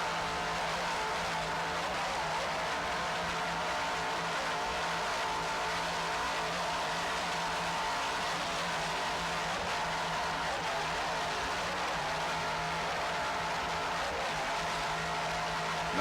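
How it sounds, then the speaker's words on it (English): A superboat racing powerboat at the 1994 Key West races, its engines holding a continuous broad roar with throttle changes, steady and fairly distant, with no voices over it. "Nice throttling job there, Steve Curtis."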